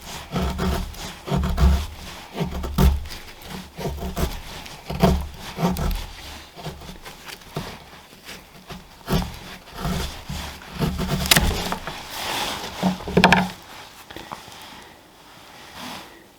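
A knife carving fine fatwood shavings from a piece of wood outdoors in wet, snowy conditions; repeated close scraping strokes in an uneven rhythm, dry and rasping, with no voice over them.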